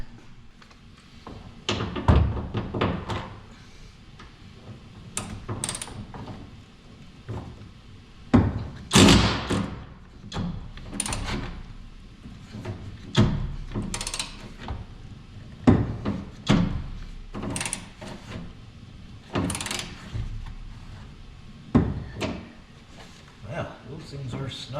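The panels of a pickup truck bed are pried loose and torn apart with repeated heavy thumps, cracks and scraping clunks at irregular intervals, close and loud, while someone talks in between.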